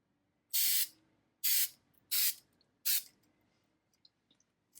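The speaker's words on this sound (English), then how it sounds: "So we're just going to want to lightly mist this" Four short, even hissing bursts from a spray bottle lightly mist a Cricut stencil, evenly spaced and close, followed by a few faint clicks in near silence.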